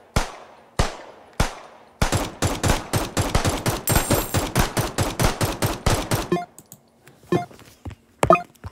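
Rapid automatic gunfire from a Thompson submachine gun in a video game, a few single loud shots followed by a sustained burst of about four seconds, then scattered shots trailing off.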